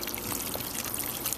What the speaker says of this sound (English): This season will start right here, at a waterfall